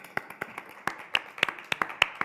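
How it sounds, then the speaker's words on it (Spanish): A small audience gives brief, scattered applause: a dozen or so crisp, uneven hand claps over a couple of seconds, close and fairly sparse, with no talking over them. "Un aplauso para quien se atreve"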